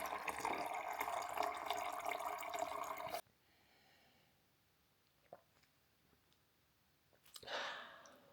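Water pours into a glass for about three seconds with a bright, splashy rush, then drops to near silence broken by a few faint clicks, before a brief second splash of liquid near the end.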